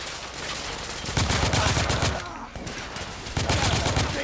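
Gunfire in The Order: 1886, a dense volley of loud, rapid shots in two bursts with a brief lull between, heard alone with no talk.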